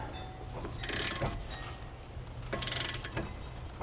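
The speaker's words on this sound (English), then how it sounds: "I'll put a ratchet on it" A ratchet wrench turning a lug nut on a car wheel during a broken stud replacement, giving two bursts of rapid clicking separated by a pause, close and fairly quiet.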